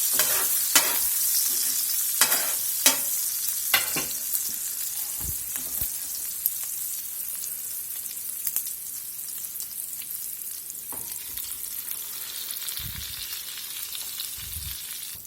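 Flour-dredged green chili chops fry in a pan over medium heat, giving a continuous close sizzle with scattered sharp pops and crackles, a few metallic taps early on and low bumps near the end.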